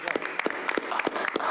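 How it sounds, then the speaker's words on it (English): Scattered audience clapping at a school district board meeting, a few sparse hand claps standing out over a murmuring room rather than a full ovation. "let's clap it up"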